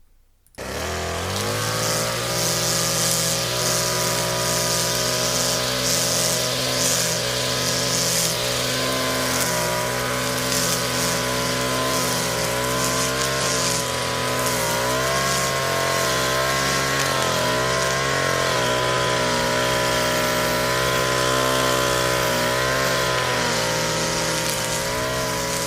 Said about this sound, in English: here is what CapCut thinks this lawnmower should sound like